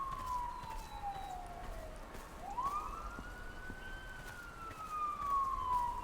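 A police car or ambulance siren in a lawn mowing video game wails in one long, steady rise and fall, fairly faint and distant, with no talking over it.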